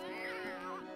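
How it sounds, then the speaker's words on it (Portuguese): A cat meows once in the video game Castlevania: Order of Ecclesia, a short, wavering, fairly faint cry lasting about a second. "Não acredito, gato safado."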